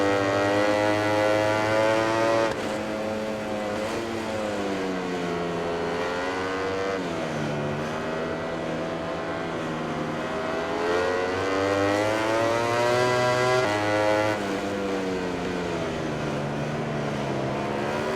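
A Ducati GP20 racing motorcycle in MotoGP 20 screams loudly and close, its engine pitch climbing and dropping through repeated gear changes and corners, without talk.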